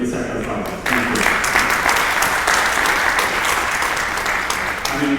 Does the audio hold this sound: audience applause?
yes